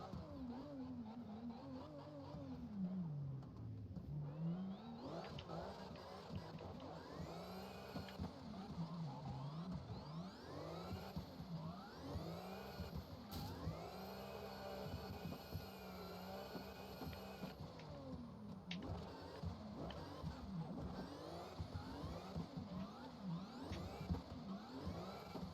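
A car engine held at full throttle, revving hard and continuously with rising and falling pitch sweeps, loud and close throughout with faint background noise.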